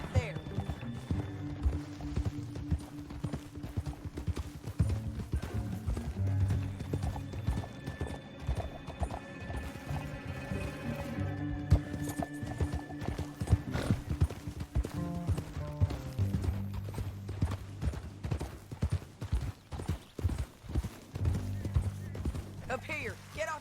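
In Red Dead Redemption 2, horse hooves clip-clop steadily at a walking pace, with an occasional whinny, soft ambient music and voices speaking in the background.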